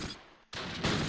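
Gunfire in the World War II strategy game Close Combat Last Stand Arnhem, loud sustained volleys that drop out briefly and then resume even harder.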